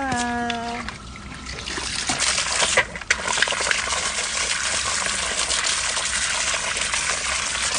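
Water pours and splashes into a container to rinse and soak seeds, a continuous gushing trickle at close range after a brief spoken phrase at the start.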